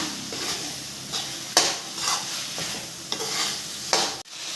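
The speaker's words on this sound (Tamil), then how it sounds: "நல்லா மிக்ஸ் பண்ணி விட்டுக்கலாம்." Onions and capsicum stirred while frying in a pan for prawn manchurian, steady sizzle broken by repeated scraping strokes of a spoon, with a clatter near the end.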